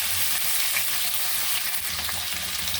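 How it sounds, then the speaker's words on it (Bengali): Cauliflower and potatoes frying in oil left from frying fish, a loud, continuous close-up sizzle with crackling spatters and no talking. "মাছ ভাজা তেলে আমি ফুলকপি আর আলু তুলে দিচ্ছি। ভালো করে আমি ভেজে নেব।"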